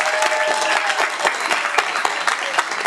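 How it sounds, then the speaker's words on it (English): An audience at a youth poet laureate commencement event applauds the poets, with continuous close, dense clapping and a few sharp individual claps, steady throughout. "can we please applaud these amazing poets one more time?"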